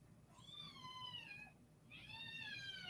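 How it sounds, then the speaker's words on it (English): A baby kitten meows twice, two drawn-out, wavering cries a second apart, heard clearly over a low steady background hum with no talk. "I hear the cat"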